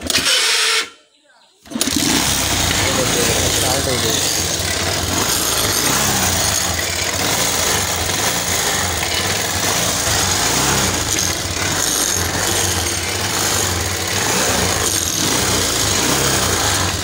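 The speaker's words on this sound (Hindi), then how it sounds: "अभी दोस्तों किक से स्टार्ट करके देखेंगे, स्विच ऑन, तो अभी किक मार के क्या होता है।" Bajaj Pulsar 150 motorcycle with a starting problem, kick-started: after a short pause the single-cylinder engine runs with a loud, steady, rough rattling idle that continues close by, with someone talking over it.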